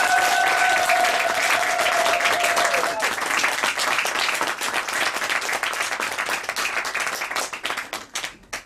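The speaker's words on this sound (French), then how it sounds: "Acclamons-les vraiment très très fort" A church audience applauds young performers after their music, with dense sustained clapping and cheering that fades toward the end, over a brief lingering tone at the start.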